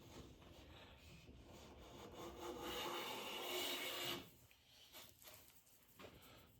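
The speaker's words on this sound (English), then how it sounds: "This glides effortlessly. I'm getting a full width shaving on this one." A Lie-Nielsen No. 4 bench plane drawn along a wooden board taking a full-width shaving, one long smooth hissing stroke that swells and fades, quiet and close, followed by lighter rubbing.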